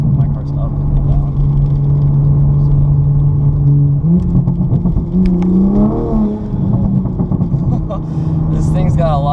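A tuned 416 hp 2020 Toyota GR Supra accelerates hard with a loud, continuous engine roar that rises in pitch mid-run, while a voice talks over the engine.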